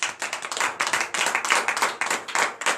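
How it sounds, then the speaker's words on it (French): A church congregation at morning prayer claps hands in acclamation, a brisk, steady rhythm of many hands with loud, even bursts and no pauses, heard close and alone. "Donnez de vive acclamation à Seigneur."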